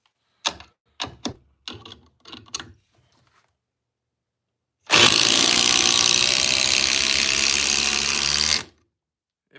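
A Milwaukee Gen 2 Surge impact driver drives fasteners into wood, giving a loud, continuous buzzing whir of about four seconds. A few short rattling bursts come before it.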